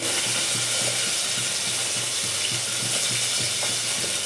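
Potatoes and onions frying in a pan with cumin, turmeric and chili paste, a loud dense sizzle with rhythmic stirring scrapes repeating about twice a second.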